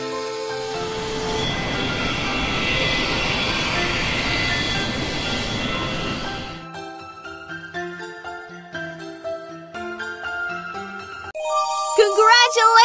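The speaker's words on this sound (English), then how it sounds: "Our plane is about to take off." A cartoon airliner's engines roar steadily for several seconds as it takes off, then give way to bright tinkling music and chimes.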